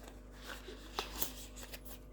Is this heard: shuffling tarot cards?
yes